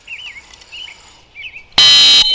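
A few soft, faint chirps come first, then a retriever training whistle sounds one piercing, very loud blast of about half a second, up close with no talking.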